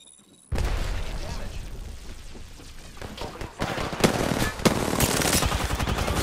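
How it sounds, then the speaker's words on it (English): Apex Legends firefight: a sudden burst of rapid gunfire followed by heavier booms and grenade blasts later on, loud and dense, with voices chattering underneath. "They're throwing grenades."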